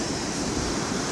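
Steady sea surf washes against the shore near a pier at sunrise, a continuous close rushing noise with no voices.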